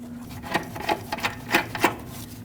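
A 14mm control arm mounting bolt on a 2006-2015 Lexus IS250 is turned out by hand, giving a few soft metallic rubbing and clicking ticks at an irregular pace against a quiet, steady hum, with no talking.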